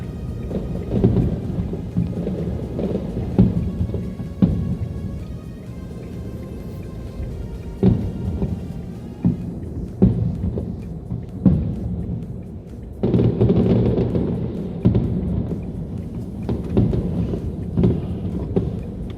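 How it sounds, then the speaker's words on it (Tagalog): Deep booming New Year fireworks explosions in Manila roll and rumble in overlapping bursts, with sharper cracks scattered through a dense, continuous crackle. "Fireworks display."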